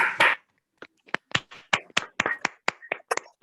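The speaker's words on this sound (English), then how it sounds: "maybe we can have a big round of applause for Dr. A." Scattered hand claps from a few participants on an online video call, sparse and uneven bursts coming through separate microphones, fairly faint.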